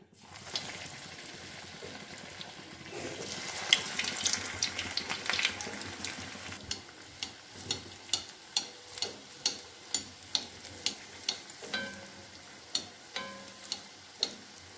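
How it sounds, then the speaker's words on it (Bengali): Egg chops coated in cornflakes deep-fry in hot oil, giving a continuous close sizzle that gets busier midway, then settles into a bubbling hiss with a regular run of sharp pops and crackles, with no voices. "এবার ডুবো তেলে মুচমুচে করে ভেজে নেব। এখানে তেল গরম হয়ে গেছে, এবারে আমি এগুলোকে দিয়ে দিচ্ছি।"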